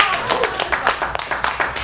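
A comedy festival audience claps in an uneven patter of many hands, with quick overlapping slaps at moderate volume and a voice speaking under the applause.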